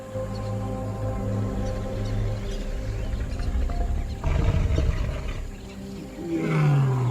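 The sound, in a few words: lion roaring at sunset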